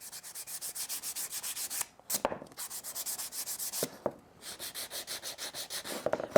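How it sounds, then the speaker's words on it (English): Rhythmic back-and-forth strokes of 150 grit sandpaper worked by hand over painted scrap wood, steady and close, with a couple of brief pauses where the scratchy rasp stops before resuming. "Now I've got an old piece of 150 grit. I'm just gonna do this by hand."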